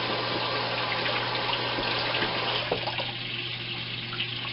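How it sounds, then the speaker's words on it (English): Running water pours steadily from a kitchen tap as a cutting board is rinsed beneath it, a continuous close gushing splash with no talk. "we're going to shake off the cutting board and rinse it"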